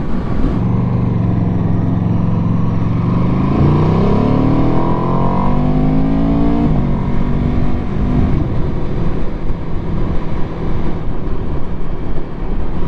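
A 2018 Aprilia RSV4RR sport motorcycle being ridden, its engine a loud, steady droning tone that climbs in pitch as it accelerates, then settles into a rougher, windy cruise.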